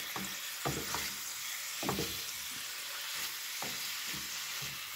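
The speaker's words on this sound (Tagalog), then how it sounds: "Gamit ang butter and oil, lutuin natin ang chicken hanggang sa maging tender ito." Chicken frying in butter and oil in a pan, with a steady sizzle throughout and a few sharp stirring clatters of a utensil against the pan at irregular intervals.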